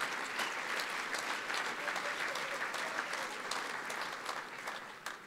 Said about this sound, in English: you can give a round of applause for that if you'd like